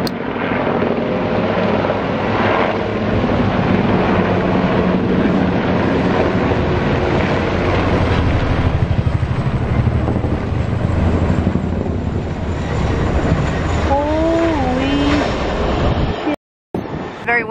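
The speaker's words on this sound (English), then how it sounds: "There's a windstorm coming" Loud, continuous wind rumbles and buffets the microphone outdoors, with a voice speaking briefly near the end.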